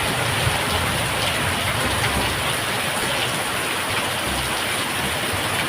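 Steady, dense hiss of monsoon-season rain pouring down without a break, loud and close, with a low rumble underneath and no talking.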